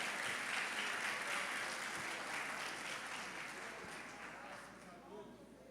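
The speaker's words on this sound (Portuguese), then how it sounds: "Dê um aplauso para eles," A church congregation claps together in a sustained round of applause, fairly faint and distant, slowly tapering toward the end.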